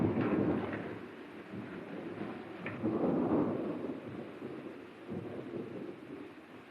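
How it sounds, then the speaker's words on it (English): Thunder rumbles in the night, a low, rolling swell that rises and falls in slow waves with some rain and wind texture, heavy and moderately near, without voices. "I can hear thunder in the night and lightning."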